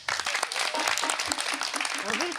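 Live show audience applauding the elders, a brief, busy patter of clapping with voices speaking over it close by.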